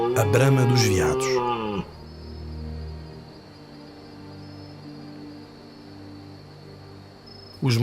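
Red deer stags bellow during the autumn rut in the forests and hills of Trás-os-Montes, Portugal. After a brief voice at the start, a long, low, droning roar sounds at a distance, with faint insects chirping underneath.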